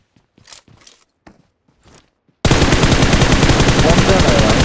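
In a shooter video game, a few soft scattered footsteps give way to a sudden burst of loud, rapid automatic gunfire that continues unbroken to the end.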